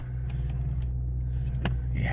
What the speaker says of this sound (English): Let's go ahead and start it.